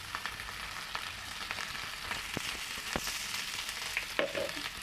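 Cut greens sizzle softly as they go into a pan of frying onion, green chilies and ginger-garlic paste, a faint, steady hiss with a few light clicks of stirring and no voices.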